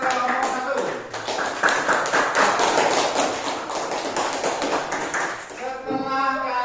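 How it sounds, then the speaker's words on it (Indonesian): A classroom of students applauds group 1 with quick, uneven tapping claps. The clapping runs close and loud for several seconds and fades near the end. "kasih tepuk tangan yang meriah buat kelompok 1"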